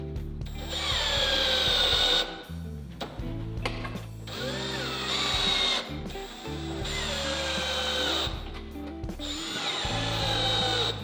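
A power driver sends screws into an exposed-fastener Max-Rib metal roof panel in repeated loud whirring bursts, four or so runs rising in pitch and rattling the sheet metal, close by and with no talking.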